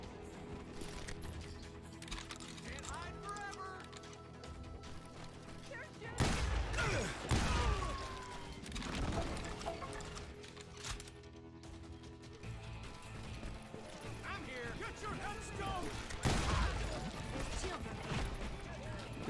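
Bursts of gunfire and scattered shots ring out in a Wild West town shootout in the video game Call of Juarez, heavier at a few moments, mixed with clattering and game effects amid a loud, busy soundscape.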